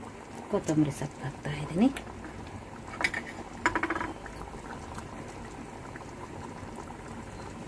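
Aloo sagu potato curry bubbling in a pot, a steady low simmer running under a woman's speech near the start and again around the middle, then continuing quietly alone to the end.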